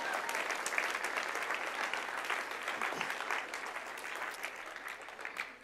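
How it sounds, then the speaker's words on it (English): A church congregation applauds in a sustained, even burst of many hands clapping, fairly soft and distant, fading slightly toward the end with no talking. "You can go ahead and clap for that."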